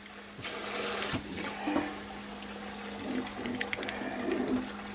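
Tap water runs steadily into a sink while an iron skillet is scrubbed and clinked under the stream, with faint scraping and a low background hum.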